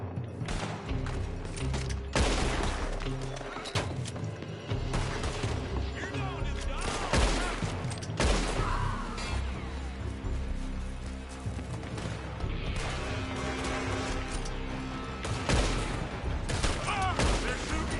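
Red Dead Redemption 2 gunfight: loud gunshots and rapid volleys crack out repeatedly over a dense, busy game soundscape with heavy thuds, lasting the whole stretch.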